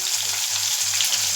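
Curry leaves fry in hot oil with sautéed onions, giving a steady close sizzle and crackle throughout with no talking.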